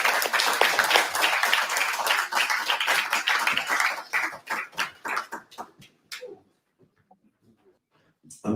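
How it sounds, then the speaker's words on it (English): Audience applause for Roger Waters at a stand-up event, a dense burst of clapping for about four seconds that thins into scattered individual claps and fades toward silence. "Roger Waters, get a round of applause."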